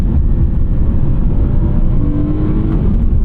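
Naturally aspirated V8 of a 2011 BMW M3 E90 sedan driving, a steady loud low engine drone heard from inside the car, with a brief rising note late in the run and no talk.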